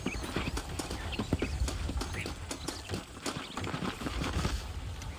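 Horse hooves clip-clop steadily while riding in Red Dead Redemption, a dense, continuous patter of hoofbeats up close with occasional whinnies and ambient game noise underneath.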